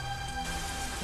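Steady rain falls outside a small home, a dense, even hiss that stays constant and fairly loud throughout, with no voices.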